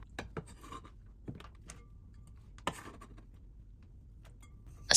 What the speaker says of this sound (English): Thinly slice some cucumber into a bowl. Then do the same with the fennel.